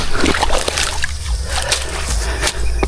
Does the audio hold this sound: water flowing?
yes